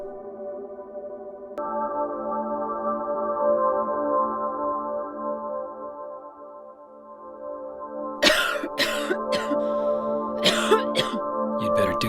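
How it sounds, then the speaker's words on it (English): Coughing bursts from a Silent Hill 2 game scene, several harsh, close coughs clustered near the end over a sustained droning musical score. "You'd better do something about that cough."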